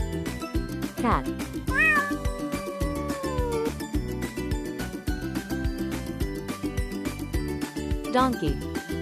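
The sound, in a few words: cat meowing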